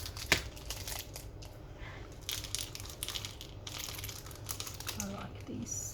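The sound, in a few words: cutting open a package, crinkling wrapper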